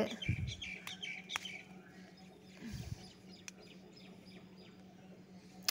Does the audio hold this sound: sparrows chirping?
yes